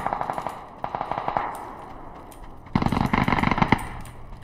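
Automatic gunfire from a PUBG match comes in short bursts, then a louder, denser volley near the end, with a slight echo and no talk over it.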